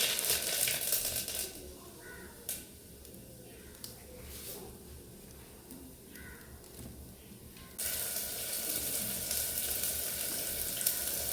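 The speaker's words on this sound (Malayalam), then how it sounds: "വെളിച്ചെണ്ണ ഒഴിച്ച് കടുക് പൊട്ടിച്ചിട്ടാം" Mustard seeds in hot coconut oil give a steady close sizzle and hiss with faint crackles, continuing throughout and growing louder toward the end.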